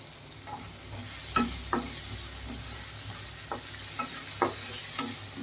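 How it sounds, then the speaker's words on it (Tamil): Onions and curry leaves sauté in hot oil in a pan for Tamil-style crab curry: a steady soft sizzle with a handful of sharp clicks and scrapes from stirring, close and fairly quiet, with no talking. "வெங்காயம் நல்லா வதங்கட்டும்"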